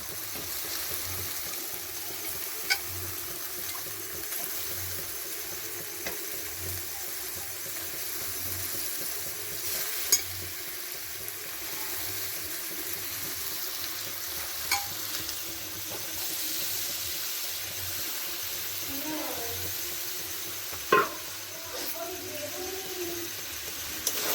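Meat and spices for homemade biryani fry with a low continuous sizzle while a spoon stirs and scrapes now and then, a few sharp knocks against the pot, and a soft voice talking over it.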